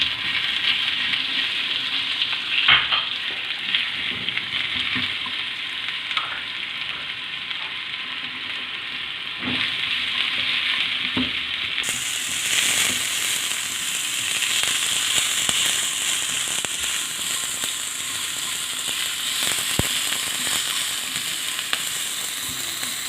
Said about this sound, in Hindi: इसमें हम प्याज को थोड़ा सौते कर लेंगे, हल्का सा इसको कर लेंगे सॉफ्ट।